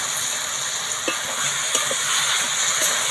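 Okra frying in a pan with spiced yogurt just added, giving a steady close sizzle with a few soft stirring scrapes and taps over it.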